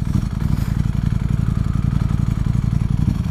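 A 200-horsepower Ducati Streetfighter V4 SP sits running with its engine rumbling in a fast, pulsing throb, loud and close, holding a steady idle-to-rev note throughout with no speech.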